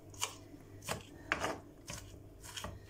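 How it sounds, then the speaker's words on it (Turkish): A knife finely chops an onion on a board, about six crisp cuts at an even pace, close and fairly quiet. "Evet, şöyle ufak ufak doğruyoruz."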